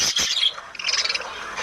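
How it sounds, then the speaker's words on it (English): Birds chirping and squawking in an afternoon setting, a few sharp high calls clustered at the start and again later, fairly close and heard alone. "this is the chirping noise of the birds"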